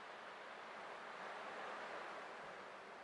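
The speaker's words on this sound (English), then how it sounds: "I can still clearly hear the sound of the waves" Ocean waves wash steadily in the Honkai Star Rail game world, a continuous broadband surf roar that stays even and fairly loud throughout with no voices.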